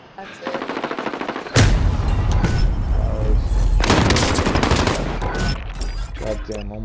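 Gunfire in Call of Duty: Modern Warfare, including a light machine gun, rattles off in loud, sustained bursts that sound close, with a few quieter gaps between them.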